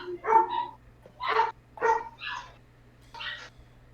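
A dog lets out a handful of separate barks, spaced by short pauses, close to the mic over a low steady hum.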